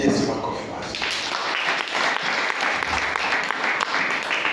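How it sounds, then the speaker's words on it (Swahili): Church congregation applauding together during a sermon, a steady wash of many hands clapping at moderate distance, with faint voices mixed in. "Bwana Yesu makofi mazuri"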